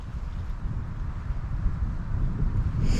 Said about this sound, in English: wind is really picking up